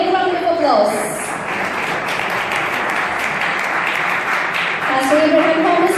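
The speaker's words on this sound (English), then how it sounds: "Big round of applause." Audience applause at a Bible quiz prize distribution for the third-place church winner, a sustained burst of clapping lasting several seconds, with voices heard briefly at the start and end.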